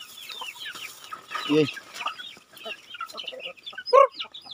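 Turkeys cluck and gobble in a farmyard, several short throaty calls scattered over a busy background of other birds, with one louder burst near the end and a brief voice cheering.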